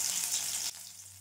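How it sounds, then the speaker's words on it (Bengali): Chicken pieces deep frying in hot white oil in a kadai, a bright steady sizzle and crackle that drops abruptly to a quieter bubbling partway through, faint and close with no voices. "তেল বেশ গরম হয়ে এলে তাতে একে একে চিকেনের পিসগুলো ছেড়ে ডিপ ফ্রাই করে তুলে নেব।"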